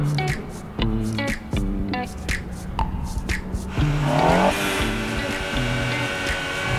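A BMW 228 with a turbocharged engine accelerates hard, its note rising through the revs as a steady, loud drone, with a short chirp partway through and no talk over it.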